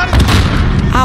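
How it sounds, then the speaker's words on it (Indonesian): A grenade blast in the Call of Duty: Modern Warfare mission Hunting Party: a brief, loud, close boom mixed with gunfire and busy game noise, while players talk over it. "Makan deh granat."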